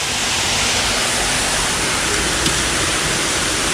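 Waterfall on a small creek, a dense steady roar of falling water, loud and close with no other sounds.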